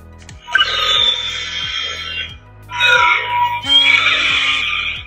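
A Darksaber toy lightsaber powers on with a loud, harsh electronic whine that swells, dips, then surges again over a low pulsing hum.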